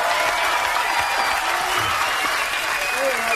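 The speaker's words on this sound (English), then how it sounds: "So let's give a big round of applause to our winner, Jamil Hassan." A crowd applauds a contest winner in a studio, with steady dense clapping held at an even level throughout and faint voices mixed in underneath.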